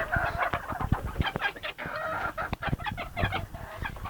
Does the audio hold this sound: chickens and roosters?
yes